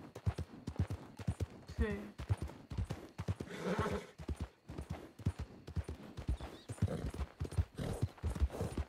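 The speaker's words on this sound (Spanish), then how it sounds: "el galope creo que es un poco más lento" Rhythmic hoofbeats of a horse galloping in Red Dead roleplay, a steady clip-clop pulse that runs close and fairly loud, with a brief spoken word and some game sounds over it.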